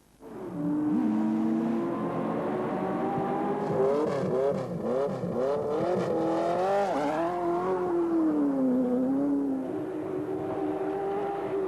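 A 1965 Ford GT40 V8 race car roars on the Montlhéry road circuit, engine rising and falling through revs and gear changes over about twelve seconds, loud and steady with a strong throaty tone.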